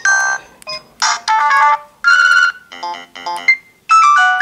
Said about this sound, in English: So those are the ringtones.